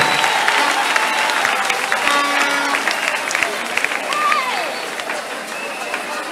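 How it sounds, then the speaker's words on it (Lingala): A church congregation applauds steadily throughout, a dense, continuous wash of clapping from a crowd with faint voices mixed in. "On peut d'abord acclamer pour eux, ils sont restés fidèles."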